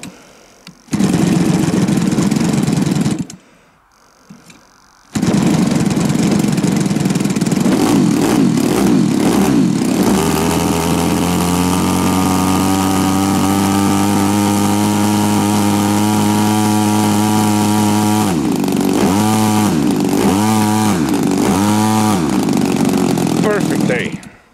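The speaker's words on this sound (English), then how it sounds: "so I can show you that the engine works." Engine of a giant 2.5 m Primary 100 model airplane fitted with a new CDI unit, running loud and close. It catches, stops briefly, restarts into a steady buzzing drone, then revs up and down several times near the end.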